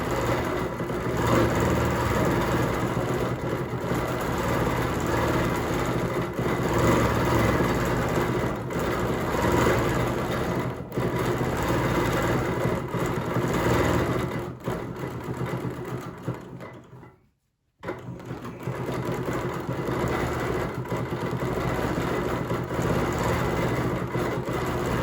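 A sewing machine runs steadily for a long stretch while stitching loops in free-motion quilting. The motor hum is loud and continuous, stops briefly near the end, then starts again.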